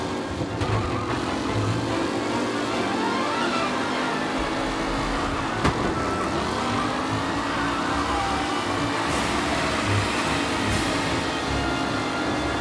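Race cars in Mafia Definitive Edition drone steadily throughout, a continuous loud engine roar with shifting pitch as vehicles accelerate and pass, with no pauses.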